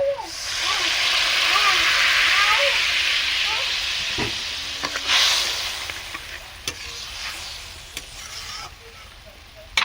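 Water poured onto caramelized sugar in a hot pan for a pineapple chutney bursts into a loud, rushing sizzle and hiss that slowly fades, with a few sharp clinks near the end.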